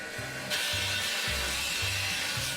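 An angle grinder cuts through a metal pipe while building a homemade wind turbine. After a half-second lead-in, it gives a steady, loud, bright whine over a pulsing low hum from a generator.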